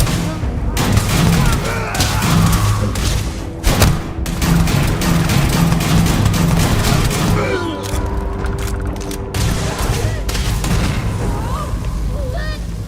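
Heavy gunfire from a Starfield firefight, dense bursts and booming shots pounding almost without pause, with loud voices calling out through the barrage.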